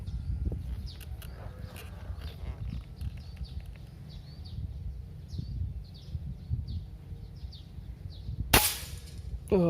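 Single sharp crack of a Phoenix PCP air rifle shot fired outdoors near rice fields at a 50-metre target, loud and brief near the end, over windy background with chirping birds.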